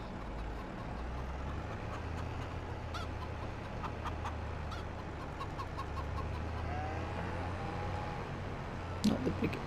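In a farming video game, chickens cluck softly and scattered over a continuous low rumbling ambience, with a few short brighter calls near the end.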